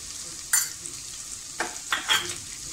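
Ginger, garlic and two spoons of mixed masala stirred and sautéed in a pan for a bottle gourd and chana dal dish, with a steady sizzle and several sharp scraping stirs, close up.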